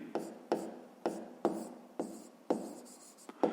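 Pen strokes scratch across paper while a maths solution is written out, a run of about nine close, sharp scribbling strokes in an uneven rhythm.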